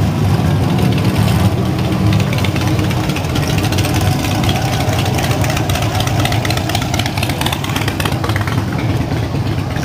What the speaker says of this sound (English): Rumbly Trans Am.